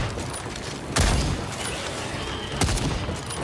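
A grenade explodes in the dinosaur shooter Second Extinction, with two loud, close blasts about a second and a half apart over steady rumbling gunfire and battle noise.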